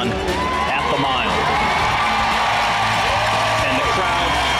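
A large stadium crowd roars and cheers steadily after Faith Kipyegon finishes her mile attempt, a loud continuous swell of shouts and whoops with no break.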